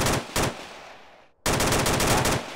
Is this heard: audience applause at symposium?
no